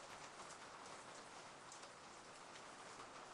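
Rain in the Kiosk video game hisses steadily as a faint, even wash of drops on a surface, soft and continuous with no other sounds.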